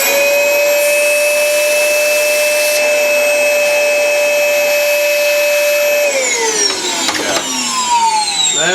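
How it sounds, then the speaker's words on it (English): A vacuum motor whines steadily at a constant pitch while cleaning a printer cartridge, then the tone drops and wavers as the suction changes near the end. "I'm going to have to put this vacuum on again just to clean it a little bit"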